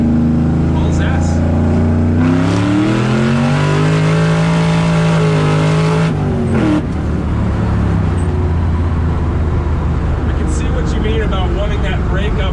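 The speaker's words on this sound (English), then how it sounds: "it has been LS swapped and supercharged, and it just hauls ass." A supercharged, LS-swapped 1969 Chevy C10 pickup idles with a deep rumble, then winds up in a long loud pull that surges and fades into roadway noise, with people talking over it.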